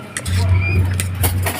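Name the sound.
stirring with a spoon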